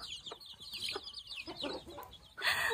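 A mother hen clucks softly among cheeping chicks, close by, with a cluster of high peeps and low murmured clucks and a louder burst of chirping at the end.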